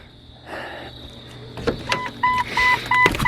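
Car with rust repairs gives a series of short repeated electronic beeps, evenly spaced and fairly close, after a brief mechanical whirr and clicks.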